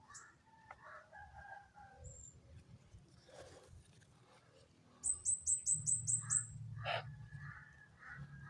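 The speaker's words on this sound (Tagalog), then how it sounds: "parang sumusunod sa atin yung uwak mga kaidol" A crow calls outdoors with a quick burst of several harsh, repeated caws, clear above a quiet backdrop of faint rustling and distant ambient noise.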